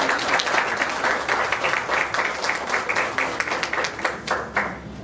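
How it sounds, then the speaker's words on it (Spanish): Audience applause at a digital media and social networks congress, steady, dense clapping from a large crowd that thins slightly toward the end. "yo les pido a ustedes que se den ese aplauso y le den ese aplauso a los colegas"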